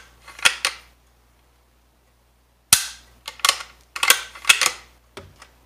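A Wards Western Field .410 model 17B shotgun's mechanism dry fires in sharp metallic clicks and snaps: a pair, a pause, then a cluster of quick close clicks from working the action.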